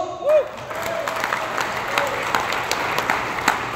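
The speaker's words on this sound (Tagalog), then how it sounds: "Ang tanang mga magwawali, palakpak ang gawat" Church audience applauding the preachers during a lecture, a steady patter of clapping from a gathered crowd lasting a few seconds, with a voice briefly heard at the start.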